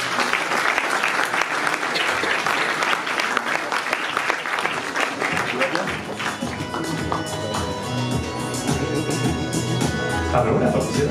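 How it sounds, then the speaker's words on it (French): Audience applause at the presentation of the 19th Nuits-Saint-Georges half marathon, loud and continuous throughout, thinning toward the end with some tapping and crowd noise. "On peut les applaudir."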